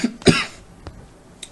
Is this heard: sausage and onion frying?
no